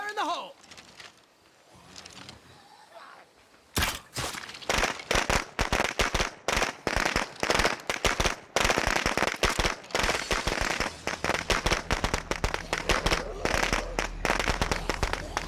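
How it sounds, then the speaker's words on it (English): A firecracker goes off in a zombie survival video game, a long rapid string of sharp crackling pops that runs loud for many seconds after a quieter start, with game sounds before it. "let's use a firecracker and just get these guys to come out. Fire in the hole!"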